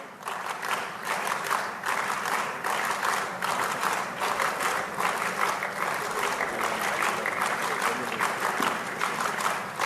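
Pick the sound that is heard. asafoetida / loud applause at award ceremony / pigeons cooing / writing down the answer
loud applause at award ceremony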